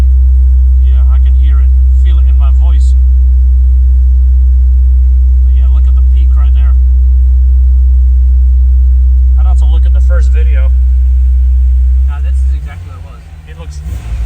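Honda S2000 exhaust drone, a steady loud low hum around 65 hertz held constant inside the car, with a person talking intermittently over it and a shift in the rumble near the end.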